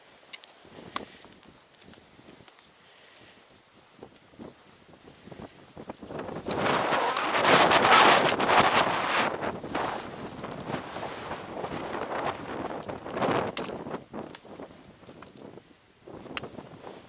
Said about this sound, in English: Wind sure is cold though.